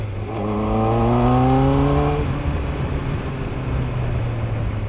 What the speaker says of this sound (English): Woo, it's so easy to over-rev this thing.